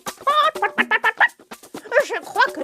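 A hen clucks in a series of rapid, choppy, throaty bursts, loud and close, used as a sound effect in a French children's story.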